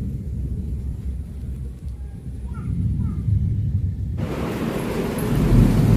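Distant thunder rolls as a low, continuous rumble through an outdoor sky, swelling louder toward the end, with faint bird calls in the background.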